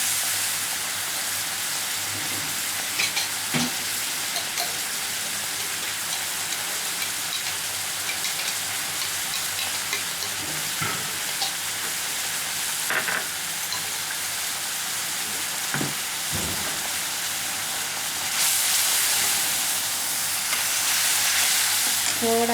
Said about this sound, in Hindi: इसमें मैं अभी इमली का जूस डालूंगी। इसको अच्छी तरह से मिक्स कर दी।